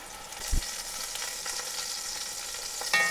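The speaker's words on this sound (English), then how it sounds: "Once we're nice and hot, we're going to add in the chuck roast." Chuck roast browning in avocado oil in a Le Creuset Dutch oven, a loud steady close sizzle with brief low knocks of the pot, no talk.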